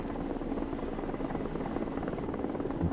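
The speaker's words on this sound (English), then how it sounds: "Bring in a helicopter with supplies, which will drop off some supplies there." A supply helicopter in the war video game Broken Arrow, its rotor thrumming steadily and fairly loud throughout, with no voices over it.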